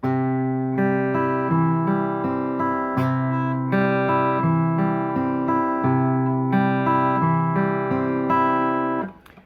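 A plucked guitar plays a repeating fingerpicked pattern of notes, steady and even, ringing together close up with no talking.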